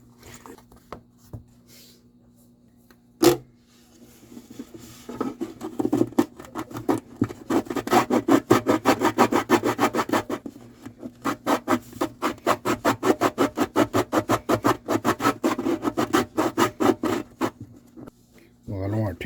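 Wood being leveled off inside the body of a broken parlor guitar, heard as a run of quick, rhythmic scraping strokes that grow louder and denser partway through, close and fairly loud, after a single sharp knock near the start.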